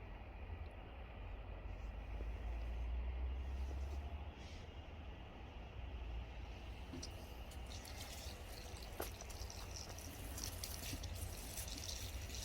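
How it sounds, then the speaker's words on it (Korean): Irrigation water runs onto potted blueberry plants as a steady, soft wash of flowing water with scattered faint drips and taps, continuous and fairly distant, with no one talking. "일단 관수를 해 보겠습니다"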